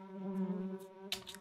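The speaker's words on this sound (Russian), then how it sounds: "Это что, с унитаза? Мухи." Flies buzz steadily by a toilet in Layers of Fear, a close, droning hum that carries through the whole moment, briefly joined by a soft rustle near the end.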